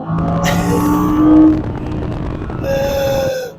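An Audi R8 V10 revs and pulls, its engine note rising and falling in two strong surges, close and loud with no speech.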